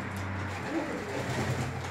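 Several pigeons of the classic Hünkâr breed coo softly in a low, steady murmur with a continuous background hum, the cooing close and unbroken throughout.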